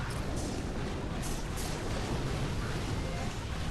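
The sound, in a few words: artillery fire in the video game Boom Beach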